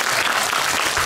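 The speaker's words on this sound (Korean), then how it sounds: "건강하게 공익근무 마치라고 여러분들이 박수 한번 쳐주시면" Loud, close audience applause at a Q&A screening event at a fantasy film festival, a brief dense burst of clapping from the crowd.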